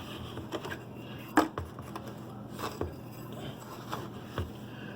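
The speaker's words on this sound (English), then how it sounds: "One level scoop of coffee grounds into the coffee maker." Coffee grounds scooped into a drip coffee maker's basket: a few soft scrapes and light taps of the scoop against plastic, quiet and close, with a louder clack near the middle.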